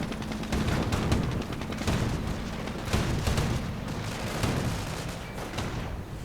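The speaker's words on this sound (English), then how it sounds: "Grenade on the anti-tank and clearing it out." A grenade explodes on an anti-tank gun in a real-time strategy war game, amid continuous rumbling battle noise with repeated booms and gunfire, dense and loud without a single standout blast.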